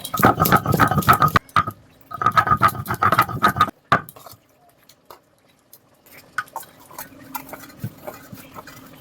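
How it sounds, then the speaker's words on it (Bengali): Whole garam masala is ground by hand, bursts of rough, rhythmic grinding and scraping that pause and resume, close and fairly loud, followed by quieter intermittent scrapes. "এবার অল্প করে বেটে নিচ্ছি"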